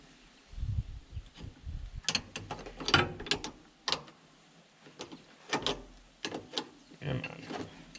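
A wrench working a grade 8 bolt on a 1991 International 9670 Eagle truck gives close, quiet ratcheting clicks and metallic clanks in irregular bursts.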